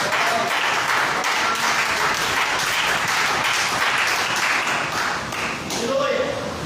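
Church congregation at a Pentecostal service clapping together in steady, dense applause that fills the room, loud and continuous with only a brief dip near the end.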